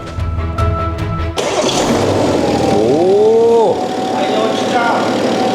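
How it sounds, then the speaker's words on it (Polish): A BMW 7 Series G70 Individual V8 being rebuilt cranks with a steady whine, then fires abruptly into a loud, close roar that revs and falls back to a rumbling idle. "Oj, te V8. Pięknie brzmi."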